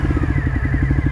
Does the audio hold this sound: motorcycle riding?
yes